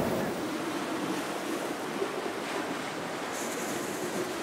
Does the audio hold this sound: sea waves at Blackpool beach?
yes